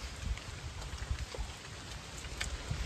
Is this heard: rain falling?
yes